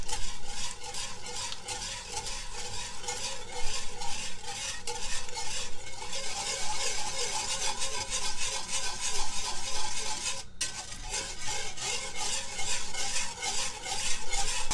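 Sour cream being stirred into a pork chop sauce in a pan: a steady, close scraping and swishing of a utensil over a soft, constant sizzle, with no talking.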